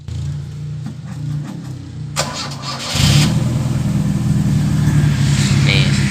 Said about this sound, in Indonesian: mesinnya cekur bos, 1 kali starter langsung hidup